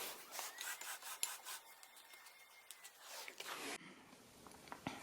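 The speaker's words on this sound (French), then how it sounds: "je vais verser mon mélange au levain. D'abord mélanger ça." Sourdough starter and water are stirred by hand in a bowl for bread dough, giving a steady close scraping, rubbing swish that runs for several seconds before a brief pause and a softer continuation.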